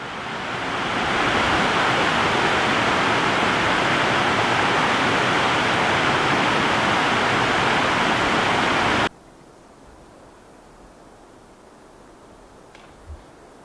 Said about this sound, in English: Check out the waterfall across the way.